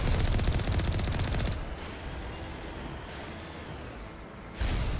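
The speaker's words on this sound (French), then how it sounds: "Je tire dessus alors qu'il a explosé lui déjà." Rapid bursts of video game gunfire in Mass Effect Legendary Edition, loud and dense at first, then fading into a rumbling crackle before a sharp new burst near the end, with no voices.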